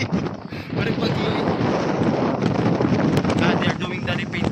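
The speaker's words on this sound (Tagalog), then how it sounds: "kusuga sa hangin" Strong wind blows outdoors beside a residential swimming pool in Cebu City, buffeting the microphone with a loud, continuous, gusting roar.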